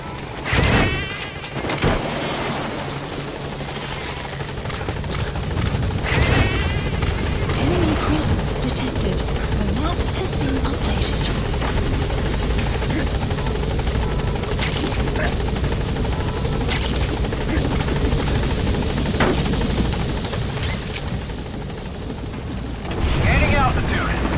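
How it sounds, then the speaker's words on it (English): A support helicopter arrives in Metal Gear Solid V: The Phantom Pain, its rotor and engine a loud, steady whirring roar that persists throughout, with game voices speaking over it. "Support helicopter has arrived."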